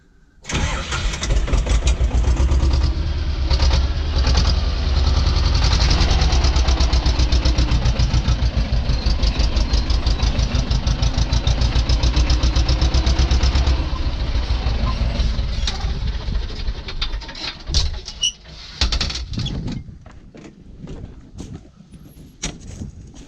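A T-25 tractor engine starts and runs loud and close with a steady rhythmic diesel chug during tree felling in a field, then pulls away. The rumble fades and turns uneven toward the end.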